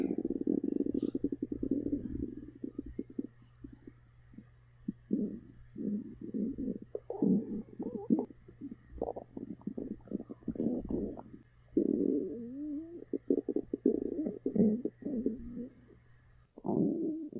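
Hungry stomach growling in long gurgling rumbles and squelchy bursts, close and fairly loud, with a constant low hum underneath and a few brief pauses between rumbles.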